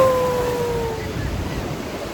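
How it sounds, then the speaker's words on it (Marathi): Sea waves at Ganpatipule beach on the Konkan coast make a steady roar of surf with wind buffeting the microphone. A brief high whistle-like tone fades in the first second. "सो बघा कशी लाटा येतात बघत असाल."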